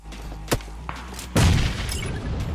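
Grenade blast in BGMI (PUBG Mobile) gameplay: a couple of short gunshot-like cracks, then a heavy, booming explosion with a rumbling tail that dies away over about a second.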